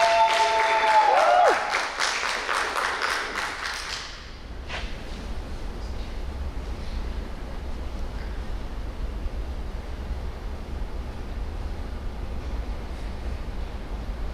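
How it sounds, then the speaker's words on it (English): A burst of applause and cheering fades out after a few seconds, leaving a steady low hum of background noise. "please, let's give a round of applause"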